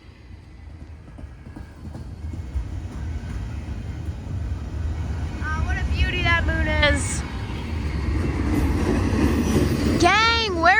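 A CSX freight train from the Georgia Railroad rolls past at night with a steady, swelling rumble and clatter, while high, horn-like wavering tones rise near the end. A person talks briefly over the train noise.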